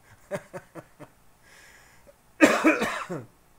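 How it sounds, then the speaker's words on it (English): One person coughs during a live stream: a run of five short, dry coughs, then a louder, harsher burst of hacking that trails off. "I just can't stop coughing"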